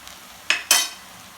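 Onions sautéing in a pan for Kerala chicken vada, heard as two quick, close scraping stirs over a faint low sizzle, with no talk.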